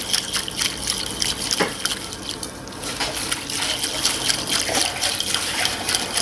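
Hot water pours and trickles into a bowl of unflavored jelly granules, a continuous liquid splashing with small drips and clinks throughout.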